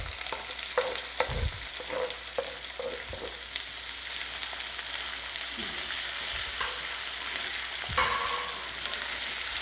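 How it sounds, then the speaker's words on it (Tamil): Onions fry with bay leaf, fennel seeds and other spices in a pan for a Madras vada curry, a steady sizzle broken by scraping stirs and clinks of the spoon, close and unaccompanied by talk. "இதை ஆனியன்ஸ் குக் ஆகட்டும்."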